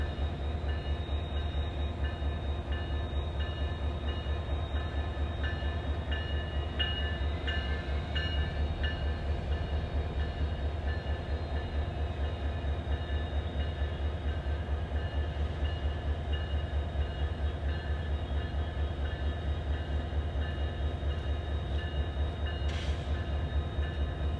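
Norfolk Southern SD60E diesel locomotives haul an empty rock train bound for a Georgia quarry, with a steady deep engine drone and rumbling rail noise and faint squeals, sustained and fairly close, no voices.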